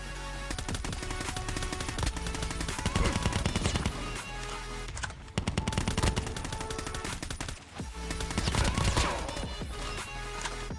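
Rapid automatic gunfire from Call of Duty gameplay, dense continuous bursts over game music and effects, loud and sustained with short breaks.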